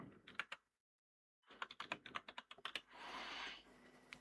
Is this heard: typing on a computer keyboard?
yes